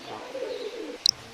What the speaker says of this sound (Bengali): ভাই এখানে এক পেয়ার পিওর ব্রিডের হাসপা কবুতর, হাসপা টেডি কবুতর আছে।